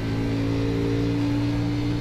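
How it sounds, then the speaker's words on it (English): A steady, droning race car engine in the iRacing video game, an Xfinity Series car at Iowa, hums at constant pitch, holding a flat tone with no revving or shifts; continuous and fairly loud. "The car does not sound good."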